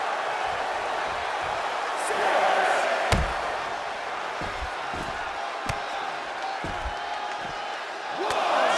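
An arena crowd in WWE 2K23 cheers and roars steadily throughout a Monday Night Raw wrestling match, with occasional thuds and slams breaking through the continuous crowd noise.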